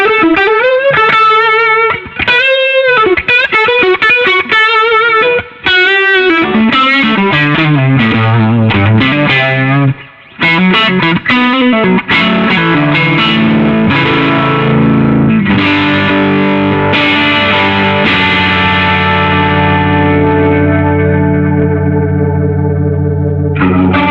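Overdriven guitar runs through a Boss RT-2 rotary speaker pedal on its slow setting, a loud, continuous distorted playing with a gently swirling chorus-like sweep, single notes and bends building into sustained chords, no talk.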